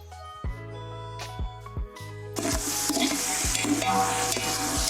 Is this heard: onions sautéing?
yes